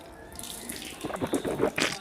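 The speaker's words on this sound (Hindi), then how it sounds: "3 मरतबा हाथ धो लेने हैं।" Water runs from a tap and splashes over hands being washed for ablution, starting soft and growing into close, irregular splashing near the end.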